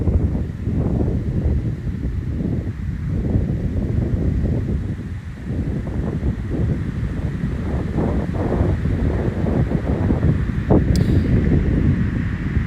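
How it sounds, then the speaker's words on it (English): Strong wind buffets the microphone in steady, roaring gusts throughout, with low rumbling turbulence and no voices. "Ooh, it's windy right now."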